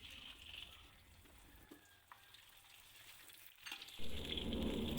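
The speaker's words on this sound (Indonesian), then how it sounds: "langsung saja kita siapkan wajan untuk menumis bumbu-bumbu yang telah halus tadi" Ground spice paste sautéing in a wok for peanut-sauce cilok, a steady soft sizzle that swells louder near the end, with faint clinks and no talking.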